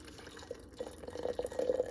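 Hot water is poured into a glass jar to temper it before making an anise hyssop and calendula face toner, a soft splashing, filling trickle that builds and grows louder toward the end.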